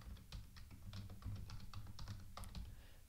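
A password is typed on a computer keyboard in a quick, uneven run of close, crisp key taps, with no voices.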